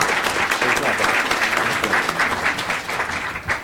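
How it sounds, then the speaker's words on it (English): Audience applause at a startup pitch competition, a brief, steady burst of many hands clapping that holds throughout and tapers slightly at the end. "Give Chad another round of applause."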